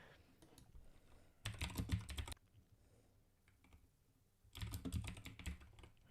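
Fast bursts of typing on a computer keyboard, two dense clusters of clicking keys separated by quiet gaps, faint and close, with no talk.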